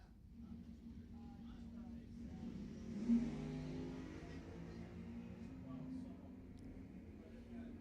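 A Mustang at a drag strip during eliminations, its engine droning and revving at a distance with a brief louder surge partway through, under a steady background rumble.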